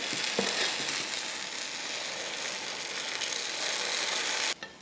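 Paniyaram batter fries in hot oil in the cups of a paniyaram pan, giving a dense, even sizzle close by that runs without a break and cuts off abruptly near the end, with no talking.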